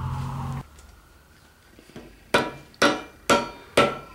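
A hammer strikes a Chevy 350 engine's crankshaft four times in steady succession to seat it, sharp ringing clanks up close, after a quieter stretch with a few lighter taps.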